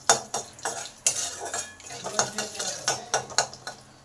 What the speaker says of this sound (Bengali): এবার এই কালো জিরেটাকেও ভালো করে ভেজে নেব।